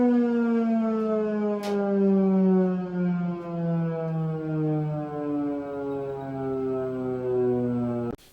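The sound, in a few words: civil defense alert siren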